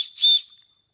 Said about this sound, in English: Lightweight whistle.